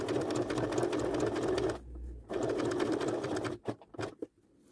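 A domestic sewing machine stitching fabric runs loud and steady, pauses briefly to a low hum, then resumes before breaking into a few short stop-start bursts as the needle is positioned.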